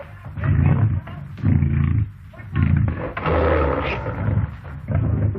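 A lion roars in repeated loud, deep bursts with brief gaps between them, close and dominant, in a 1950s jungle adventure setting.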